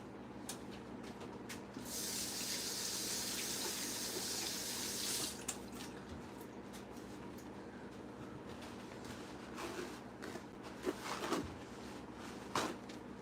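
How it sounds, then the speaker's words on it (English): A kitchen faucet gushes for a few seconds while sugar is rinsed off hands, a bright steady hiss of running water that then stops, leaving quiet room noise with a few small knocks and clicks. "I'm going to wash the sugar off my hands real quick."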